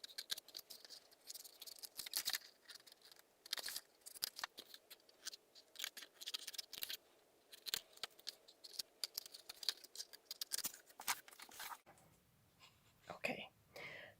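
Scissors snip repeatedly through card while an ink pad storage box is being made, a rapid run of close, crisp cuts and rustles, sped up, with a brief quieter handling noise near the end.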